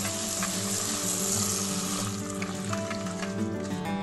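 Red rice rinsed under a running tap, a steady rushing, splashing stream of water close by with gurgling as the grains are washed, no talk.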